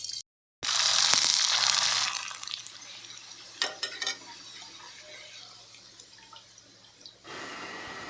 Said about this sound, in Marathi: आता मी तुम्हाला पापड तळून दाखवते